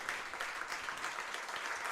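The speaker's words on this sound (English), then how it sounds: "And the applause comes, and so it should too." Spectators clapping after a U15 boys softball grand final win, a steady patter of applause from a modest outdoor crowd, heard at a distance and fairly quiet.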